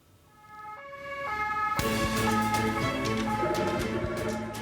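An ambulance siren wails up from faint to loud as it approaches on a ring road, its rising and falling tones blaring over road traffic noise.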